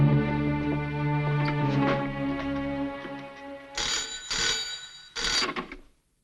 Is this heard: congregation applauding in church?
no